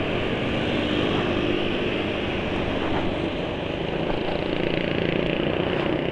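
A motorcycle engine runs steadily as the rider pulls away, its crankcase oil overfilled to 1100 ml with 100 ml of corn cooking oil mixed in. The loud, continuous broadband drone holds without pause or voices.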